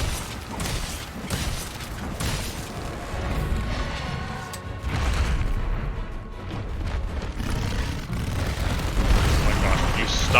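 Repeated booming blasts and crackling fire from Dodogama in Monster Hunter World: Iceborne, loud and rumbling with heavy low-end bursts amid continuous clattering game noise.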